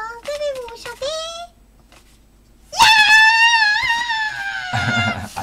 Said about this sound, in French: c'est pas du chant, c'est du cri